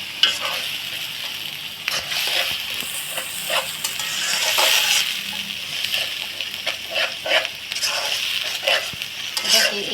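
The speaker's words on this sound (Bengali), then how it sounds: "এই মশলাটাকে আস্তে আস্তে মিডিয়াম জালে কষিয়ে নিতে হবে" Spiced masala mixed with sour yogurt sizzles in a pan over a medium flame while a spoon stirs it, giving continuous frying crackle broken by repeated scraping strokes, close and moderately loud.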